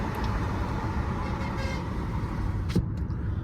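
Wind rushes through the open windows of an i20 N Line car while driving, a constant loud broadband whoosh with low road rumble beneath it, steady throughout.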